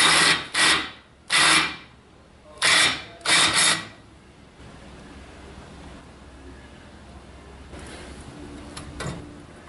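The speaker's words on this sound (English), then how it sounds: "I'm going to drill the holes right there." A power drill whines in five short, loud bursts over the first few seconds, drilling holes in a garage door track, then quiet room hiss with a faint clink near the end.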